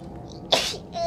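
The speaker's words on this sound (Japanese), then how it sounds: "やばい、くしゃみ出そう。" A single sudden sneeze bursts out close up from a streamer playing Little Nightmares, loud and brief after a quiet lead-in.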